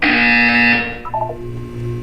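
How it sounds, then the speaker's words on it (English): A loud, harsh electronic buzzer from the video game Portal 2 blares steadily for under a second, then a softer tonal blip sequence trails off over a low hum. "You will hear a buzzer."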